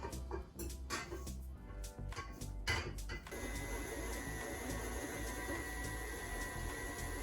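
A KitchenAid stand mixer whirs continuously at close range as it beats gluten-free batter, following a few clanks and knocks at the start.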